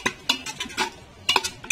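Half a kilogram of chicken is stirred in a pressure cooker for chicken biryani, with a quick series of sharp metallic spoon scrapes and clinks against the pot in an uneven rhythm.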